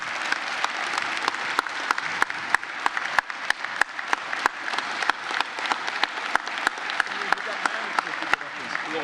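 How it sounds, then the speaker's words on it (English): Steady applause from an audience at a speech rolls on evenly for several seconds, dense clapping with a few sharper individual claps standing out. "I think she should be applauded for the hard work she puts in that goes unnoticed"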